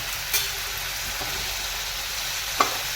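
Bitter gourd bhaji with onion, salt, chili powder, turmeric and crushed peanuts frying in hot oil, a steady close hiss of sizzling with a couple of faint clicks.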